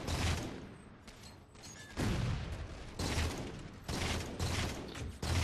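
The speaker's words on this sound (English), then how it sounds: "that was a shotgun" Shotgun blasts in Halo 4, several loud, dense bursts of gunfire arriving at irregular intervals with mechanical clatter and battle noise filling the gaps.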